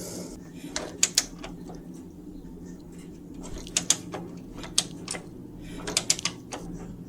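A large flathead screwdriver pries a cap off an old motorcycle left three years in a garden, giving a few scattered sharp metallic clicks and scrapes close up over a low background hum.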